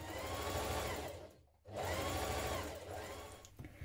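A sewing machine stitches fabric for a shirt dress in rapid, steady whirring runs. It pauses briefly in the middle, then resumes, heard close and alone.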